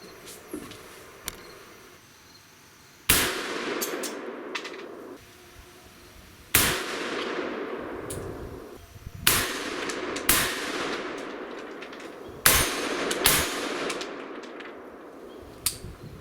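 A handgun fitted with a red dot sight is fired at about 25 yards during sighting in: about eight sharp, loud outdoor gunshots spaced irregularly a second or more apart, each trailing off in a brief echo, with no talking.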